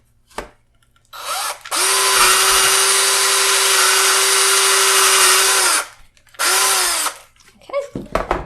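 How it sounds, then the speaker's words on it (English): A power drill bores a pilot hole in a loud whine that runs several seconds, pauses, then comes back in a short burst, ending with faint handling noises. "And we'll go ahead and drill that here."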